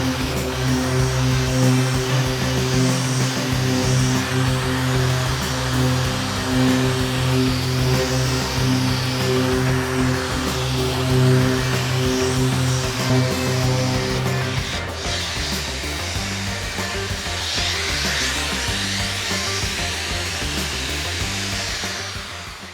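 A Mirka Deros orbital sander with 240 grit runs on body filler over a Ford XC Falcon panel van panel, a loud steady motor whine with tonal hum that eases slightly partway through, no talk.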